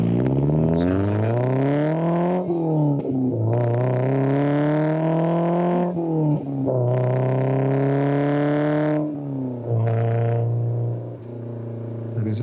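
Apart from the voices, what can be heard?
Maserati Bora 4.9 car engine revving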